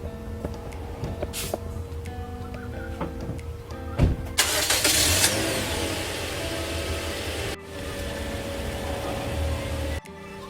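A car engine is cranked and catches at about four seconds, then settles into a steady idle, recorded close by during a home oil change.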